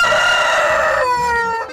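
A rooster gives one loud, close, drawn-out crow that ends in a falling tail, with chickens faintly clucking underneath.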